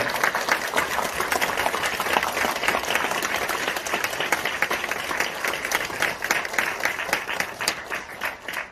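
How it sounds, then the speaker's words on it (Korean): An audience fills a university auditorium with sustained applause at a special lecture, dense and loud clapping continuing without a break before slowly tapering at the end. "큰 박수 부탁드리겠습니다."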